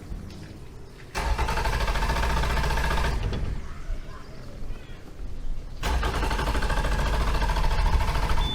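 A Yamaha 100hp outboard motor on a boat is cranked over twice without firing, each burst of steady loud starter churning lasting a few seconds, with a quieter lull between them.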